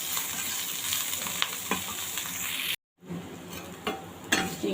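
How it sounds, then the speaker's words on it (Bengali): Shrimp sizzle and fry in a little oil with salt in a pan, a steady close crackle with occasional stirring clinks, briefly cut silent for a moment before the frying resumes. "এবার সামান্য একটু তেলের মধ্যে আমি এরকমভাবে আর সামান্য লবণ দিয়ে ভেজে নিচ্ছি।"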